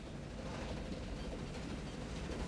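A train thunders along in the 1985 film Runaway Train, a steady, dense rumble and rattle of rail cars that holds at an even loudness from start to finish, with no voices over it.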